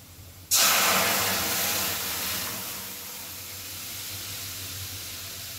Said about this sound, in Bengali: এখন আমি কচুর যে লিকুইডটা তৈরি করে রেখেছিলাম সেটাকে ঢেলে দেব।